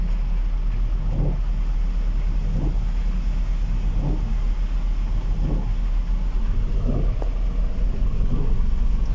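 An auto rickshaw on a rain-flooded road rumbles past with a steady engine drone and low, rhythmic swells against constant background noise.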